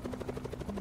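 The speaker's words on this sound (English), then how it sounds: "Why is there a helicopter here?" Helicopter in a video game, a steady low rhythmic rotor chop with a throbbing hum, moderately loud and continuous with no talking.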